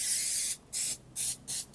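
Greasing spray hisses from a can onto a baking pan in four short bursts, the first longest and the rest in a quick, even rhythm, close and fairly quiet with no talking.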